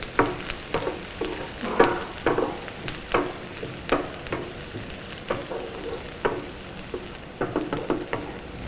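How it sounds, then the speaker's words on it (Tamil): Onions and squid sautéing in coconut oil in a pan, with a steady close sizzle and frequent, rhythmic spatula scrapes and taps throughout. "இதை வந்து நீங்கள் வந்து ஒரு டிரான்ஸ்லூவன்ட் கலரில் வந்து நம்ம வதக்கினா போதும்"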